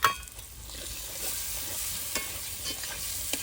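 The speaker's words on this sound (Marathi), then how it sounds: "वाटलेला मसाला टाकून आपण जे खिकडीचं मांद काढलं होतं ते टाकून मसाल्यात परतून द्यायचं" Ground masala and crab meat stir-fried in a pan for a village-style crab curry, a steady close sizzle with soft scraping stirs across it.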